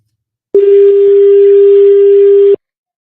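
A single steady ringback tone holds for about two seconds, clear and close, with no voices.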